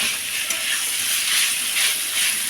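Cauliflower curry frying in a pan as it is stirred, a steady bright sizzle with soft swells of hiss and the scrape of stirring, close and continuous with no talking.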